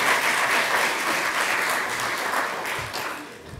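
An audience at a lecture gives sustained applause, a dense, even wash of clapping that fades slightly toward the end, with no talking over it.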